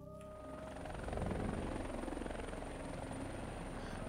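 A helicopter arrives in the video game Call of Tomsk-7, its rotor thudding rapidly and steadily as the sound swells louder and closer before holding at a strong, continuous chop, with no speech.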